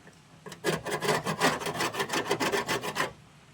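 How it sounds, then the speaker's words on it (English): An angle grinder cuts into the rear panel metal of a Triumph TR7, a close, loud burst of rapid, pulsing rasping that stops abruptly after about two and a half seconds. "So I need to get me grinder, cut that a little bit there"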